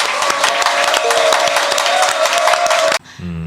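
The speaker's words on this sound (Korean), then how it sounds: "여러분의 힘찬 박수와 함께 시작하겠습니다." Audience applause opening a current-affairs talk show, dense sustained clapping with crowd noise and a steady tone underneath that cuts off abruptly near the end, giving way to a quieter studio sound.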